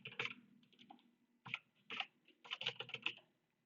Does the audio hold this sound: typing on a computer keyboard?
yes